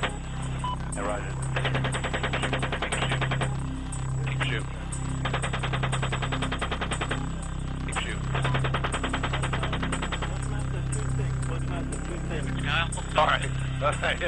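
Helicopter cannon fire in long rhythmic bursts of rapid thudding shots, repeated several times over a constant droning hum, with radio voices talking across it.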